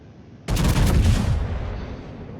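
A heavy naval gun salvo booms loudly from a warship in a naval battle video game. It starts abruptly with a rattling burst and then fades into a long rumbling decay.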